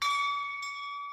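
A single bright bell chime rings out clearly and sustains with a steady ringing tone that slowly fades, heard alone.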